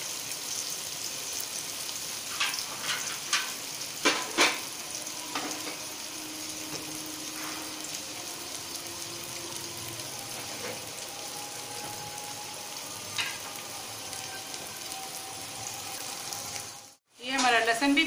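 Onion and garlic sizzle steadily in hot ghee, a soft continuous crackle with scattered spoon clicks and stirring scrapes, running unbroken until a sudden brief drop near the end.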